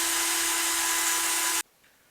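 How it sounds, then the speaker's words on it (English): A power drill spins steadily as it twists a length of wire, giving a loud, continuous whine for about a second and a half before stopping abruptly. "activate the drill and start twisting"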